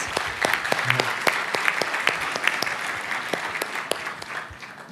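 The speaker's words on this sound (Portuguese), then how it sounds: "Vamos aplaudir agradecimento" An audience at a Christian church gathering claps in thanks, lively applause with distinct individual claps over a steady crowd wash, tapering slightly toward the end.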